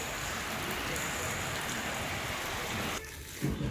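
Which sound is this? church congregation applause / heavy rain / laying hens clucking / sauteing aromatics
heavy rain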